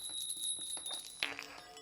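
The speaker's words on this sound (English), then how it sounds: "we're ringing some bells." Small bells ring during a sage-clearing ritual at home, with a high sustained ringing tone and a few sharper chimes struck near the end, fairly faint and close.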